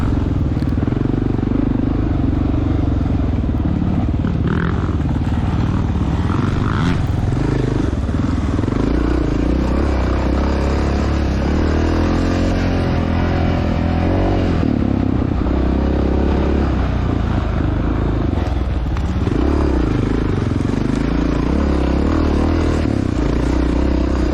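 Off-road dirt bike engines, including a 1993 Honda XR600R and a Honda CRF250X, racing in a cross-country event, loud and constant close up with rising and falling revs and clattering over rough terrain.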